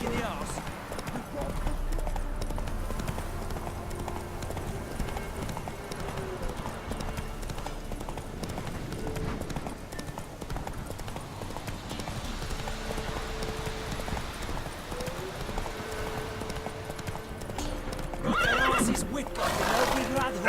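Roach, Geralt's horse in Witcher 3, trots with steady clip-clopping hooves and neighs, while voices talk and music plays over the hoofbeats.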